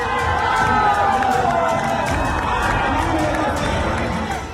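Large crowd at a Prashant Kishor Jan Suraaj election rally in Bihar, a steady loud murmur of many voices with cheering and shouting, sustained throughout without pause.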